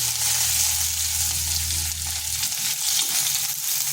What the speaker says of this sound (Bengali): দিচ্ছি গোটা জিরা, দুটো কাঁচা লঙ্কা, দিয়ে দিচ্ছি থেতো করে রাখা রসুনগুলো।